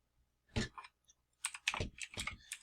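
Someone typing on a computer keyboard, entering a part into car care software: a short isolated burst of clicks, a pause, then a longer run of close, crisp keystrokes, quiet and without voices.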